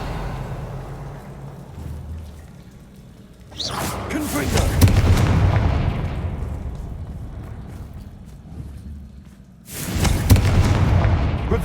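Confringo blasting spells in Hogwarts Legacy go off as two heavy booming explosions several seconds apart, each a sudden loud burst that rumbles and slowly fades.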